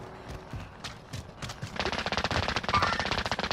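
Rapid automatic gunfire in Call of Duty Warzone, a few scattered shots followed by a dense burst of fast bursts, fairly loud, with no voices over it.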